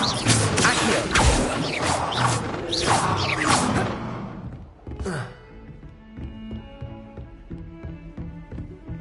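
A magical summoning spell cast in Hogwarts Legacy, a loud whooshing burst with crashing impacts over the first few seconds, then a short swish and quieter game ambience with faint musical tones.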